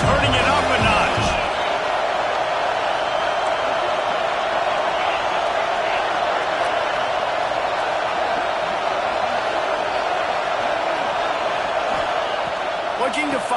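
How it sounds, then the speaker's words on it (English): Steady, dense stadium crowd roar at a football game, holding loud and continuous throughout, with an announcer's voice running over it. "this crowd is turning it up a notch"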